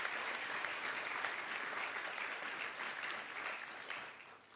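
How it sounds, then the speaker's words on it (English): An audience at a youth tourism summit claps in a sustained, dense round of applause that stays steady, then tapers off near the end. "Can we please give the Irongo region a round of applause?"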